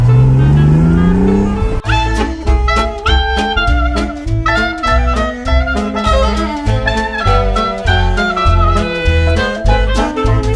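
A 1973 Ferrari Dino 246 GT with a V6 engine drives in a Forza racing game. The engine drones loud and steady, rising through gears with repeated shifts over a constant rumble.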